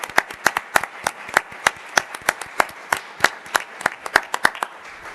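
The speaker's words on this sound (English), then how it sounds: "I think we owe you a round of applause for all the work you've done for us." Sparse, separate handclaps from a small city council meeting crowd applauding a retiring helper, sharp irregular claps spread across the room with no voices.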